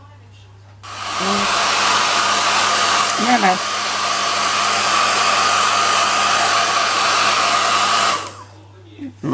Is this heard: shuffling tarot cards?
no